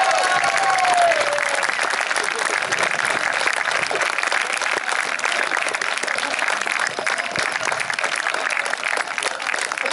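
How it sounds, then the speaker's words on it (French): A large crowd at a street parade of troops and costumed performers applauds loudly, a dense, continuous roar of clapping that holds strong throughout with a brief call heard at the start. "J'aimerais qu'on applaudisse très fort les bénévoles de l'association Val d'Eau Animation."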